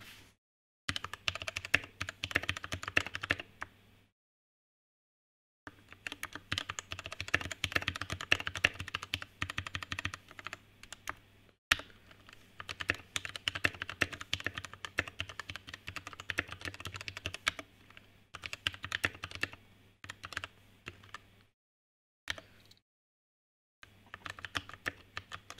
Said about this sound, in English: Okay, let us testing Brian's keyboard